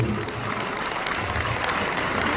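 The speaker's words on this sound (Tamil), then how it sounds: "அவர்களை நீங்கள் கரகோஷத்திலும் வழங்குமாறு கேட்டுக்கொள்கிறேன்" An audience at a Tamil association festival in Carolina claps steadily for about two seconds, a dense and even patter of many hands with no pauses.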